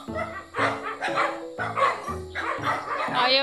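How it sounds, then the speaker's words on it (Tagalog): Dog barking repeatedly in short, fairly close bursts, a string of yapping barks over about three seconds, with a person's voice partly mixed in. "Hindi siya takot sa aso kahit na mga tinatahulan na siya."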